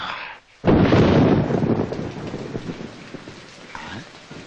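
A sudden crack of thunder bursts out after a short silence, then rolls into a long, fading rumble with a storm hiss and rain behind it, at night.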